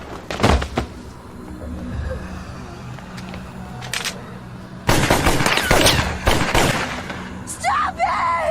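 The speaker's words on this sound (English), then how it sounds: "Stop it! Stop shooting!" Anime gunfire: a few sharp shots at the start, then a dense volley of rapid shots in the middle, with tense voices and other action sounds mixed around them.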